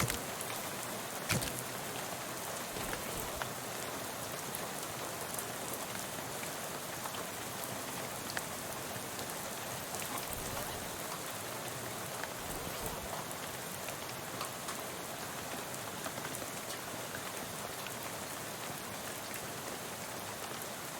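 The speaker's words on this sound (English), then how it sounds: "soon you're dozing off to the sound of rain spattering on the window beside you" In the Shadows Over Loathing video game, rain spatters on a bus window as a steady, soft, continuous hiss of drops with occasional louder taps, and no one speaks.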